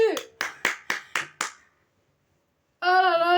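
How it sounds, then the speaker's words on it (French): About six quick hand claps in a steady rhythm, fairly close and alone, then a short pause before a sustained tonal musical sound begins. "Oh les gars, on applaudit."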